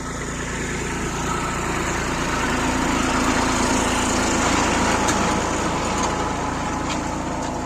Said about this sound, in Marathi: ट्रॅक्टरने चर घेणे सुरू आहे